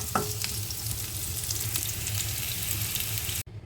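Cumin seeds and bay leaves temper in hot oil in a kadai for a Bengali koi fish curry, giving a steady close frying sizzle with stirring that cuts off abruptly near the end.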